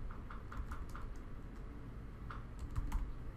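Rapid keystrokes on a computer keyboard while entering shortcuts in Maple math software, a steady run of light clicks close by with a few louder taps near the end, no voices.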